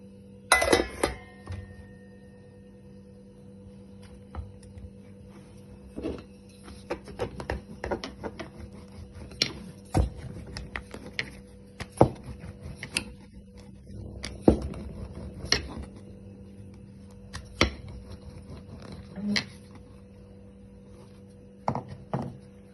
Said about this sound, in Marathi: आता आपण पापड लाटून घेणार आहे.